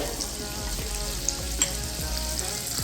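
Minced garlic sizzles in butter in a pan as a steady, close frying hiss, with a few soft stirring scrapes and no voices.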